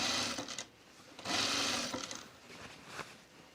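A sewing machine runs close by, stitching a seam on a Mercer top in short bursts of rapid motor whirring with pauses between them.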